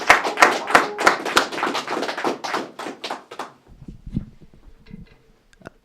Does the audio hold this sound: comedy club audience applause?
yes